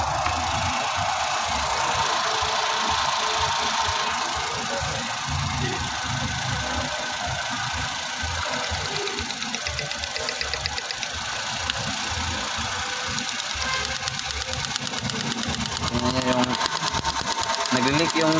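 A Suzuki DA64 engine with a cylinder no. 1 misfire runs at a steady idle, with an uneven, stumbling beat beneath a continuous close mechanical whir for the whole stretch.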